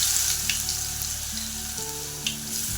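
Chopped garlic hits hot oil in a pan and fries with a steady, close sizzle, a continuous hiss that holds throughout with a few faint stirring clicks.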